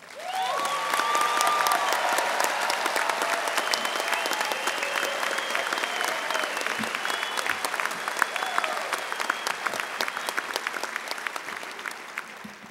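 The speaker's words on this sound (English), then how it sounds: "let's warm up by giving our graduates a round of applause" Steady applause from a large crowd at a university engineering commencement, sustained clapping that swells early and continues evenly for several seconds, with faint voices mixed in.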